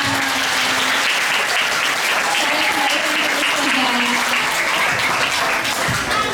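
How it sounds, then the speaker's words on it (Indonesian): A school hall full of students bursts into loud, continuous clapping at an anti-drug seminar, a dense wash of hands lasting several seconds with faint voices and cheers mixed in. "Tepuk tangan."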